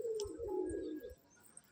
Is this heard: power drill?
no